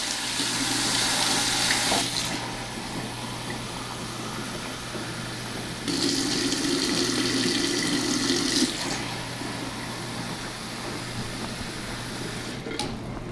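Warm water runs from a tap in two bursts into pizza dough ingredients, a steady splashing hiss that stops and starts again, with a low hum underneath.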